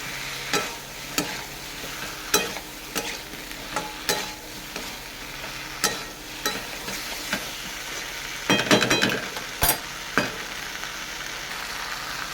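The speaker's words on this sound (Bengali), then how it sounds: "কষে নেব ডাঁটা আলু কচুগুলো দিয়ে দেবো কষে নেব" Drumstick stalks, potato and taro sautéing in a pan, sizzling beneath regular scraping strokes of a spatula, with a louder burst of frying partway through and no voices.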